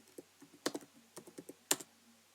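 Password keys tapped on a computer keyboard, a quick run of light clicks with two sharper, louder strikes among them, close by and with no talk.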